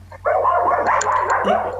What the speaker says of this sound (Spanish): hay una cantidad de perros que quieren comerme